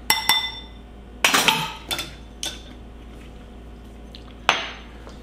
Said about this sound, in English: I'm going to put this vanilla, 1 teaspoon of vanilla in the sugar and mix that up.